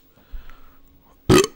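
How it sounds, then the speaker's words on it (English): A single short, loud burp close by near the end, after a faint low thump and near silence. "Ooh, I need a burp."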